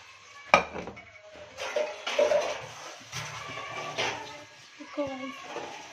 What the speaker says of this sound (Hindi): बर्तन मांज रही है।